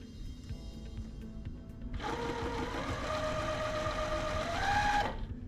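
A sewing machine chain-pieces quilt patches with a quarter-inch seam, starting abruptly after a quiet lead-in and running in one steady, close whirring burst that rises slightly near the end before stopping.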